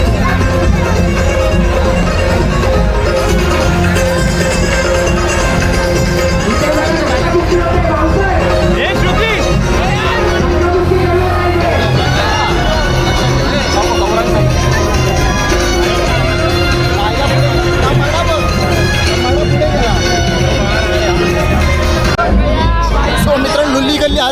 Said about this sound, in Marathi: मित्रांनो लॉट्स ऑफ गर्दी आहे इथे पाहू शकतात